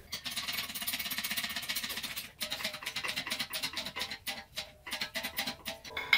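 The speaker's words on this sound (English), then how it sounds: "So now I'm going to bend basically at this bolt and then bend it back to here." Steel tube being bent by hand for a truck's front core support on a V8-swapped Ford Ranger, giving harsh rhythmic scraping and grinding strokes, close and steady, with a brief pause midway before the repeated strokes resume.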